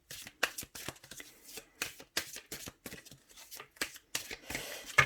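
Tarot cards shuffled by hand in rapid, rhythmic riffling bursts, close and crisp, with brief pauses between passes and no speech over them.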